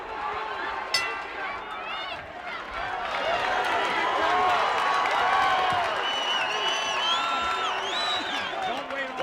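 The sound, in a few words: crowd applauding a boxer between rounds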